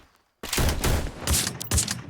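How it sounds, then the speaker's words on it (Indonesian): Rapid gunfire bursts from a battle royale video game during a tournament grand final, several sharp volleys in quick succession after a brief quiet start, loud and close. "tapi dari belakang tembakan dari Gegeduk yang berhasil mengenai seorang user Excel"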